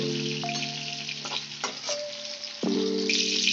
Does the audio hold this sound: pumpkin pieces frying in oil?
yes